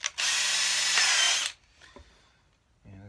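A power drill whirs loudly for about a second and a half, boring a potentiometer hole in a cigar box guitar, then stops; a few faint clicks and handling noises follow.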